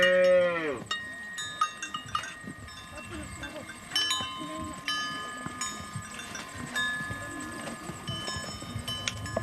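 Mursi cattle low in a corral at dusk in Ethiopia, with one long moo near the start followed by scattered livestock sounds, bell-like clanks and hoof knocks.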